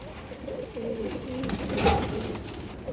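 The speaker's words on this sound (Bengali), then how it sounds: "অনেক বড় সাইজের কবুতর" Large silver pigeons coo in low, rolling murmurs close by, with several soft overlapping calls forming a steady throaty burble.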